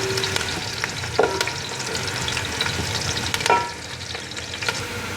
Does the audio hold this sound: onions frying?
yes